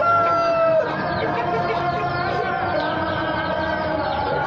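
A hen being treated for a closed, ailing eye gives repeated close clucks and throaty calls over a steady background hum. No one speaks.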